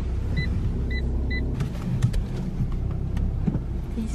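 A car pulls in to park at a curb with a steady low engine rumble, three short electronic beeps early on, then light clunks and rustles as it settles.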